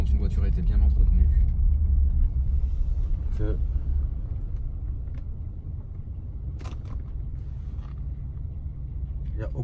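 A well-maintained Rolls-Royce engine idles at a standstill, a low steady rumble with no shake, while people talk over it and a few brief clicks cut in.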